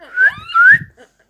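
A child whistles a short imitation of a bird call: two rising, sliding whistled phrases close to the microphone, each with a soft breathy undertone, then a faint brief chirp and silence.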